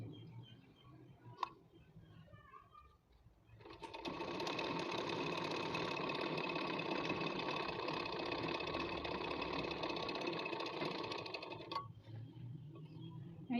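A sewing machine joins two salwar pieces, starting after a quiet moment and running steadily for about eight seconds with a fast, even whirr before stopping abruptly.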